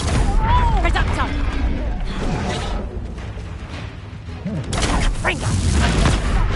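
Hogwarts Legacy Reducto spell blasts in a video game: loud booming bursts with whooshing crashes across the stretch, a big impact near the end, with voices shouting over the effects.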